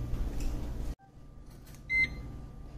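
Air fryer control panel set for wings at 350 degrees on air fry, giving a short electronic beep after a low running hum cuts off, close and fairly quiet, with no voices.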